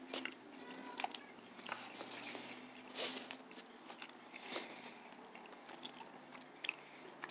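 Close, crunchy chewing and biting of a Nature Valley cashew sweet and salty granola bar, irregular soft crunches with mouth noises and no talking.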